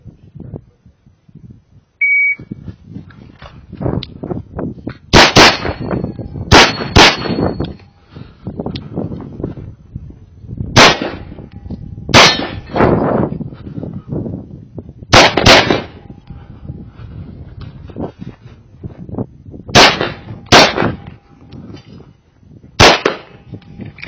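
Rapid pairs and short strings of sharp H&K USP Expert pistol shots ring out across an outdoor IDPA match stage, loud and close, separated by brief pauses with faint background chatter and a steel clang.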